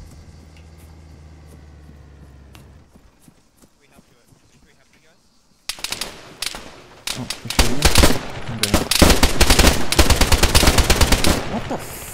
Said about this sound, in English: Why are they shooting us?